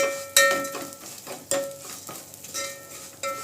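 Vermicelli fries in ghee as a spoon stirs it around the pan, sharp scraping strokes over a continuous close sizzle.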